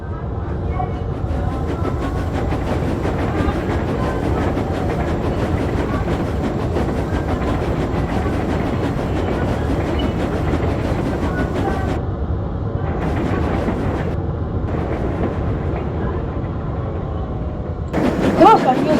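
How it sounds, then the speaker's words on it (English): A small green steam engine pulls a mail train across a huge viaduct, its steady puffing and rolling clatter loud and continuous throughout, with a brief burst of sound near the end. "Percy puffed along the viaduct."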